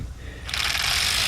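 Ratchet loosening a bolt on a 2012 VW Beetle during vacuum pump gasket work: a brief quiet lead-in, then a steady, close, rapid clicking buzz that carries on to the end.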